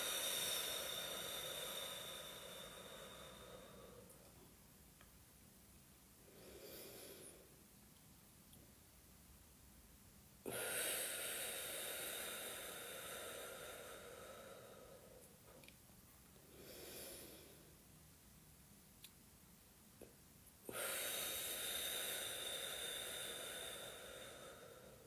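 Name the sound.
breathing in during a face exercise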